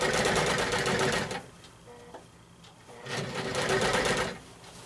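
Sewing machine stitching free-motion quilting on a quilt, running in two loud, rapid whirring bursts separated by a quieter pause with faint clicks and handling of the fabric.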